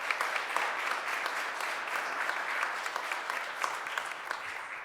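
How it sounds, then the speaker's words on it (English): Steady audience applause at a city council and mayoral event on business corridor cleaning, a dense continuous patter of many hands clapping at even loudness for several seconds, with no voices over it. "So give her a round of applause."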